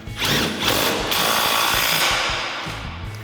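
A power tool whirs and revs while tightening a bolt through a flag nut on heavy-duty rear springs of a 2009-2018 RAM 1500 truck, one loud sustained burst that fades out.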